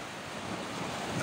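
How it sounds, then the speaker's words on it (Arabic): Mediterranean sea waves washing onto the Port Said shore in cold, windy weather, a steady broadband surf wash with wind noise buffeting the microphone throughout, no voices. "وكما نرى الأمواج"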